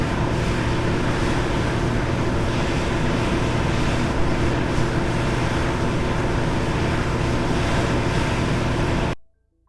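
A competitor's standby generator running at full load gives a loud, continuous broadband roar with a rushing, wind-like quality and low hum, steady throughout before stopping sharply near the end.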